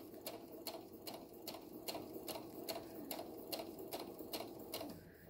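Sewing machine sewing a fabric mask, an even run of rapid rhythmic needle ticks at steady speed, fairly quiet and close, easing off at the very end.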